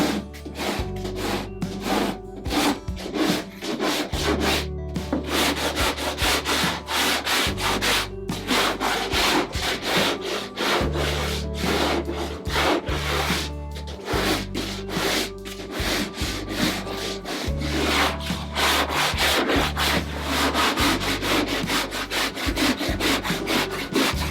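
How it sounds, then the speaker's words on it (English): A hand plane and longboard fair cured epoxy on a wooden sailboat hull, producing loud, rhythmic rasping strokes that repeat steadily and close by throughout. "The idea is that the plane actually will skim this down to its finished shape a little bit faster than the longboard."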